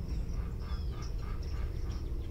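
Ducks quacking in a loose, repeated series over a steady low rumble of background noise, fairly close by.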